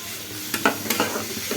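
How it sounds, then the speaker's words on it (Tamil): Food frying in a pan gives a constant close sizzle, broken by a few sharp scrapes and clinks as a utensil stirs it, no voices. "நான் எல்லாத்தையும் ஃப்ரை பண்ணிக்கிறேன்"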